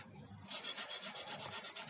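Sandpaper is rubbed by hand over the left footrest of a Honda Supra X 125 motorcycle, producing a close, quiet, steady rasping in rhythmic back-and-forth strokes.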